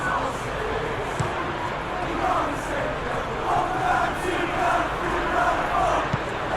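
A large stadium crowd in the football game PES 21 roars and chants in a continuous, swelling wash of noise, with a commentator's voice talking over it.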